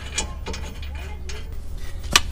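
A ratchet wrench tightens the two brake caliper bracket bolts on a 2011-2018 Dodge Durango, giving a close series of quick metallic clicks in short bursts with a sharper clack at the end.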